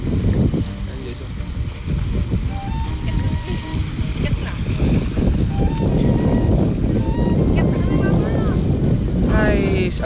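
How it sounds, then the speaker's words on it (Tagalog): Strong wind roars across an open kite flying field where many kites are being flown, a steady gusty rush buffeting the microphone throughout while people talk over it. "ang ganda ng hangin dito"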